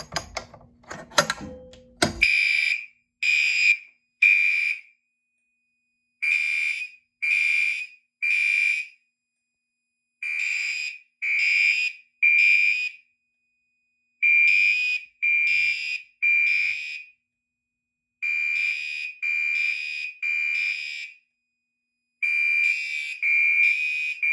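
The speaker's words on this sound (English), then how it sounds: "we're going to go ahead and pull the pull station" After a brief mechanical rattle from a pull station being pulled, a fire alarm horn blares in repeated groups of three loud, harsh blasts separated by short silences, continuing steadily.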